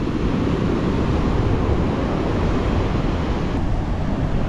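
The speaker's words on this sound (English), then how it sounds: "Got some good looking waves." Ocean surf rolling onto an Oregon beach, a steady broadband wash of breaking waves with wind noise across the microphone, continuous and fairly loud with no voices.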